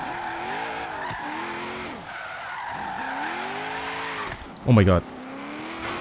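Car drifting in Forza Horizon 3, with a steady engine drone and tire skid noise running throughout, a loud revving burst near the end, and a voice exclaiming over the top.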